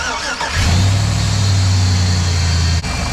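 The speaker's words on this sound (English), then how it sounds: "I'm gonna go start the truck." A 2003 Chevrolet Silverado truck engine cranks and catches after sitting unused for a while, then settles into a loud, steady low idle close by, with no talk.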